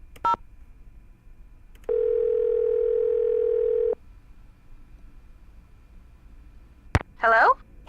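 In the Nancy Drew game Danger on Deception Island, a telephone handset gives a steady dial tone for about two seconds, preceded and followed by short clicks and a brief burst of dialing tones.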